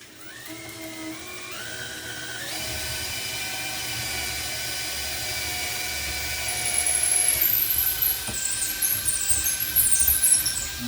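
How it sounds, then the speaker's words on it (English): A power drill whirs steadily, its pitch stepping up as it starts, then grinding harder and louder as it bites into a cabinet while drilling a hole for a pull. "when you start drilling, you've got it without moving around"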